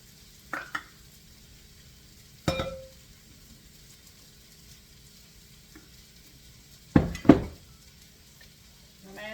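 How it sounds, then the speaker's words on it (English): Bread dough being stirred by hand as flour goes in half a cup at a time for triple onion loaves: a few separate scraping, clattering strokes of spoon against bowl with quiet stretches between. "I'm adding a half a cup at a time and stirring it in."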